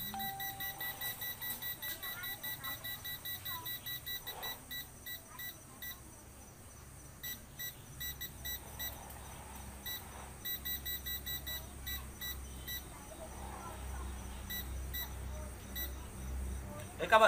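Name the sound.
laser level beeping because it is not yet level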